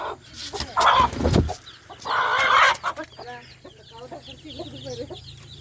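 Several native country chickens cluck and squawk nearby, with louder bursts early on and softer, scattered clucking continuing afterward.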